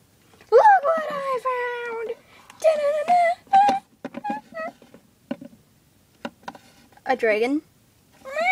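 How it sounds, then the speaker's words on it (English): Kittens in a cartoon give a series of short, high, wavering meows, spaced between bursts of voices talking. "Kittens."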